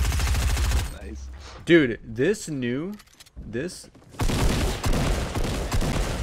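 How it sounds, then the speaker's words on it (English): Rapid SMG fire in a video game, a dense, loud rattle at the start and again near the end, with someone talking excitedly in between. "this new SMG is literally God"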